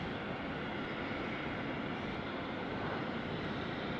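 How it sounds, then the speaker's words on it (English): A FedEx MD-11 pushes back at foggy Sydney Airport at night, its engines a steady, dense broadband roar heard from a distance with no pauses or voices. "I've been informed that the MD-11 is pushing back"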